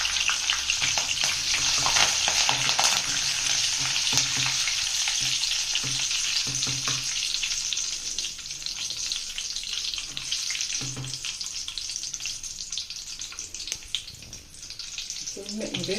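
Curry leaves crackle and spit in hot oil while being tempered, a dense, steady sizzle running throughout with faint stirring knocks and a voice speaking now and then underneath.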